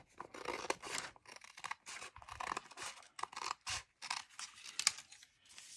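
Scissors cut through paper for junk journal file folder inserts, making close, crisp snipping and rustling in quick irregular strokes with no talking.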